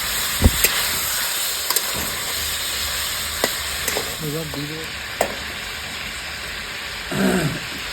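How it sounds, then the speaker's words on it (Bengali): Chicken pieces fry in a little oil in a curry pan, sizzling steadily while a spoon clacks and scrapes through them in a few sharp strikes, close up with no talk. "মাংসটা আমার কষা হয়ে গেছে, হালকা তেলে ভেজে নিয়েছি"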